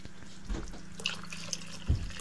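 Water poured into a cooking pot on a kitchen stove, a quiet trickle with a few soft splashes and drips close by, no talking.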